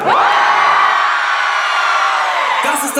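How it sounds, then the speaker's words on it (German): Live hip-hop concert crowd at the LKA in Stuttgart screaming as loud as they can: a massive, sustained roar of cheering and shrieking voices, very loud and close, easing slightly before a sudden cut at the end. "Ich zähle bis 3 und ihr schreit so laut wie ihr könnt."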